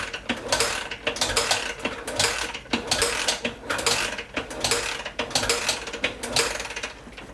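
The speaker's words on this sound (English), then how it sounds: "just pull in the decompression lever and cycle it through about 5 to 10 times with Kickstarter" Repeated kickstarting of a Honda XR650R dirt bike with the decompression lever pulled in, giving a steady run of close mechanical clanks and ratcheting kick strokes in a quick rhythm, with no engine catching.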